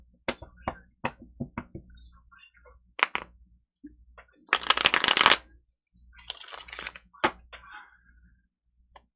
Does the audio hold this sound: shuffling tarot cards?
yes